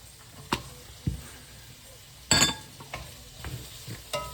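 Cut onions sizzling and frying in a home kitchen pan, with several sharp scraping stirs of a spoon against the pan and one loud clatter, all over a steady quiet sizzle.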